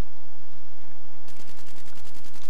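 Gunfire rings out in the shooter Call of Duty Black Ops 3. A quieter stretch gives way to a rapid, evenly spaced burst of automatic shots in the second half, loud and close.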